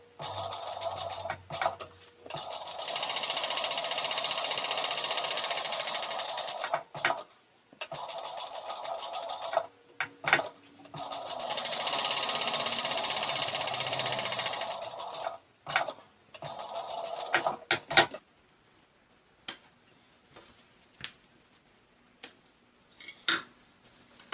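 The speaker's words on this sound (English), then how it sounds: "Now I'm not going to pull my tails through, I'm just going to back stitch." A sewing machine back stitching a tote bag sounds in two long, steady runs of motor whir, each several seconds, separated and followed by quiet clicks and handling noises.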